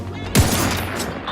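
Gunfire in The Outer Worlds 2: a sudden sharp burst of shots near the start, with a faint rattling tail that decays over a steady background hum.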